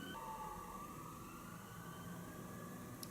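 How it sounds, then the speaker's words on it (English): A faint, distant siren wails steadily over low background hum, with no voices. "Siren."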